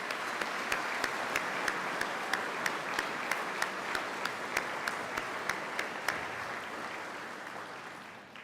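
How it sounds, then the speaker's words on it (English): Faint, distant audience applause fills a hall at a peace officer academy graduation ceremony, a steady wash of clapping that fades toward the end. "would you please join me in a round of applause for their appreciation"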